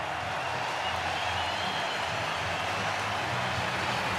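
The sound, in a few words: crowd cheering after Cubs RBI single at baseball game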